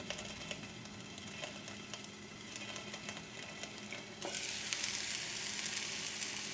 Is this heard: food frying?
yes